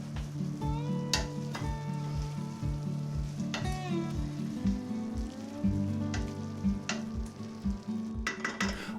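Mince and vegetables, including turnip, sizzling gently in a pan on low heat for a shepherd's pie, a steady close crackle with occasional stirring scrapes and clinks, no talking.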